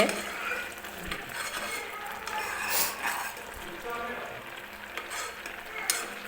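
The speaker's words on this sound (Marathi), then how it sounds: "तर व्यवस्थित मी चमच्याने हलवून घेते" A spoon stirs and scrapes a thickening kalakand mixture of milk in a pan, steady scraping strokes with faint sizzling throughout, a few sharper clinks against the metal.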